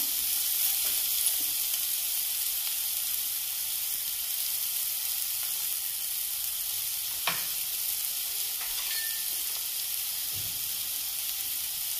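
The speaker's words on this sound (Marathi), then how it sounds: "बघू शकताय तुम्ही बऱ्यापैकी भाज्या आपल्या परतलेल्या आहेत ह्या." Vegetables for veg manchow soup sauté in a hot pan with a steady, even sizzle that runs throughout, broken only by a few faint scraping stir sounds, close and continuous with no talking.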